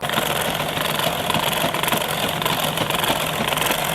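A sewing machine runs steadily while stitching the lining of a collared blouse, a continuous close mechanical whir with fast rhythmic needle ticking and no voices.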